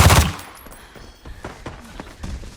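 Gunfire in the video game Arena Breakout: a loud burst at the start, then a scatter of sharper, quieter shots and impacts through the rest of the stretch, with no talking.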